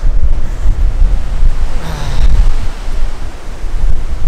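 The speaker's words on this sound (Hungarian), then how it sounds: "de fúj a szél veszettül" Strong wind blows outdoors on a cold day in Istria, roaring loudly and steadily against the microphone in close, buffeting gusts with no voices.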